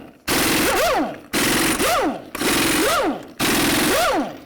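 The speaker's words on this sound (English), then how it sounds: "the next thing you want to do is remove your lug nuts." An impact wrench takes lug nuts off a 2007–2014 Ford Edge wheel in four loud, rattling bursts with short pauses between them, each burst ending in a whirring spin-down.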